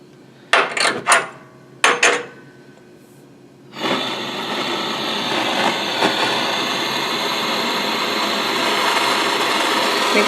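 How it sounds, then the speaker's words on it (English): A soldering torch starts up after a few sharp metallic clicks, then settles into a loud, steady, close hissing roar as the flame is adjusted to a sharp point. "now I'm going to get my torch started and get the correct flame"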